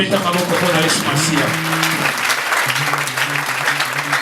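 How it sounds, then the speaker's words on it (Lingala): A church congregation claps and cheers loudly after a healing prayer, a dense continuous ovation with voices shouting over it and sustained tones from a keyboard or organ running underneath. "Acclamez très fort"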